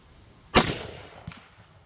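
A single sharp Savage 110 High Country rifle shot in .30-06 Springfield with a 178-grain Hornady ELD-X load, a loud crack followed by a decaying outdoor echo and a fainter distant report about a second later.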